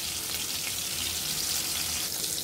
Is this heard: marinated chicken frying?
yes